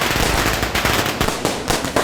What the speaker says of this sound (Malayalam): അതെ, പടക്കൊക്കെ പൊട്ടുണ്ടല്ലോ